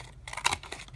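Scissors cut a piece out of leftover card for a Mother's Day craft frame, making a brief run of close, crisp snipping and crunching sounds with no talk.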